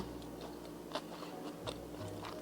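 Crisp bites into a crunchy cream cheese croissant party snack, a few sharp crackling crunches spaced over a couple of seconds, close up and fairly quiet, with no talking.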